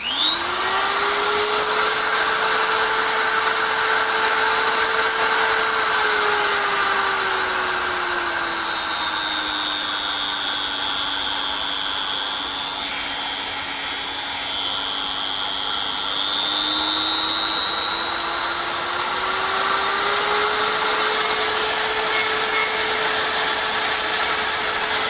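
A HILDA 220-volt, 400-watt electric rotary grinder runs steadily for the whole stretch, its high motor whine dipping in pitch midway and climbing back near the end, loud and close with no talking.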